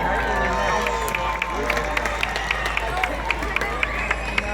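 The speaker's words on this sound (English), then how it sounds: "Let's all welcome him with a big round of applause!" A crowd applauds and cheers at a university pumpkin drop event, dense clapping with scattered sharper claps and voices mixed in, sustained and lively throughout.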